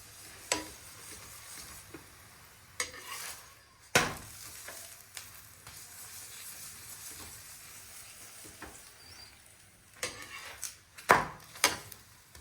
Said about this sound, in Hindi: तो आप देख सकते हैं हमारे पराठे बनते हैं घी में।